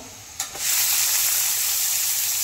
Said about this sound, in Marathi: आता यामध्ये आपल्याला घालून घ्यायचा आहे कांदा